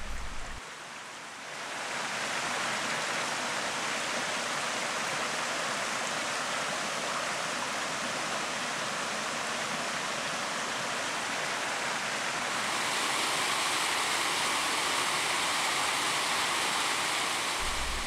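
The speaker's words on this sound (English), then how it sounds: "Four ledges comprise Wildcat Falls on Slickrock Creek, while two of the falls have deep plunge pools at their base." Wildcat Falls on Slickrock Creek, a creek waterfall over four ledges with deep plunge pools, gives a steady, loud broadband roar of rushing water that fills the whole stretch and swells slightly near the end, with no voices.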